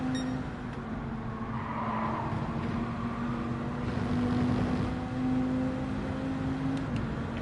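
Race car engines roar steadily in Gran Turismo 7, a Bugatti Veyron close behind, with a sustained droning engine tone rising slightly in pitch across the straight, loud and continuous without speech.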